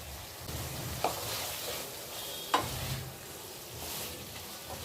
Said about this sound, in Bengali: ভালো করে নাড়িয়ে কফিটা মশলার সাথে মাখিয়ে নেব